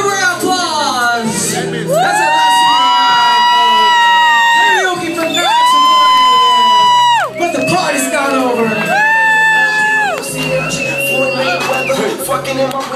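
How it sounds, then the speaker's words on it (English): A karaoke-night crowd cheers loudly with long, pitched whoops and shouts that rise and hold in several bursts close by, with a little talking mixed in. "Let's give a round of applause."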